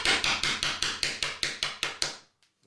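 A hair stacker for fly tying is rapped repeatedly on a hard surface to even out fluffy underbody hair, giving about ten sharp, evenly spaced knocks at close range before a brief silence.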